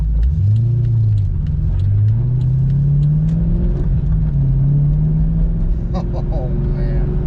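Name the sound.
2002 Corvette C5 Z06 engine while driving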